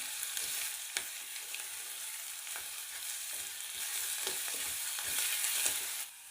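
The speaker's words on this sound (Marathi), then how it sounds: "अद्रक लसूणची पेस्ट आणि कढीपत्ता कांद्यासोबतच चांगला फ्राय करून घ्यायचा आहे" Onion, curry leaves and ginger-garlic paste frying in hot oil, a steady bright sizzle with occasional stirring scrapes, close and fairly soft, no talking.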